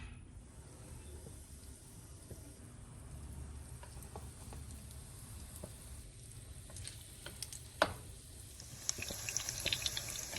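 Tuna cakes frying in oil in a pan, heard as a faint, steady sizzle and hiss with occasional small pops and a sharper clatter near eight seconds, growing a little busier toward the end.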